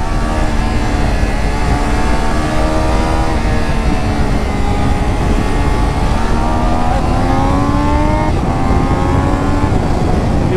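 Triumph Daytona 660 motorcycle accelerating hard through the gears, its engine note loud and steady with rising, sweeping pitch over continuous wind rush, no talking.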